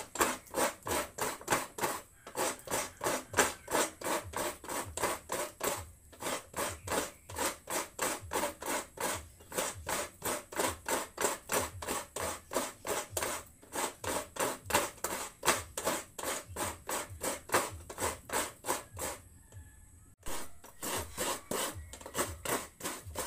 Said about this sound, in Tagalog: Kayurin na natin.